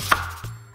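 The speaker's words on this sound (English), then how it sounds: "I'm gonna be using the white onion right here, cut into half." A knife cuts a white onion in half on a board, giving one crisp close chop followed by a softer knock of the blade.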